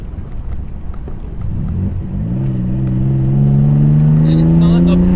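A Mazda RX7 running a twin turbo VG30DETT engine revs up close and loud, its deep grunting tone climbing steadily. Turbo compressor surge rides over the rising engine.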